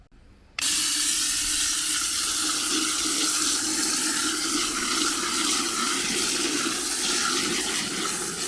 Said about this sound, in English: So let's rinse it off.